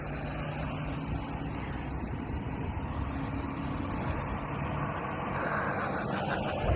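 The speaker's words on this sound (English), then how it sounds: "I hear the cars behind me." Cars and trucks pass a cyclist on a foggy road in Southeast Asia, their engines rumbling steadily with road noise and wind for several seconds.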